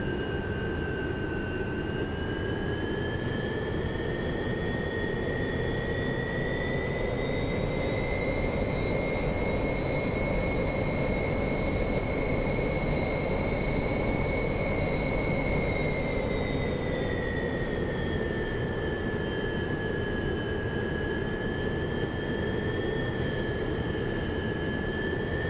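A MiG-19P jet fighter taxiing on the ground in DCS, its steady, loud engine whine holding rising and falling tones over a constant broadband roar for the whole stretch, with no voices.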